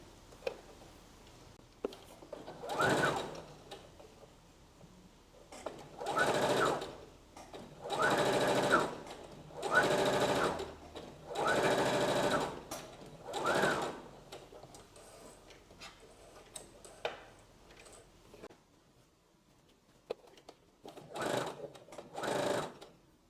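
A sewing machine stitching fabric for a dress, with several bursts of rapid, whirring stitching a few seconds long separated by quiet pauses, close and clear.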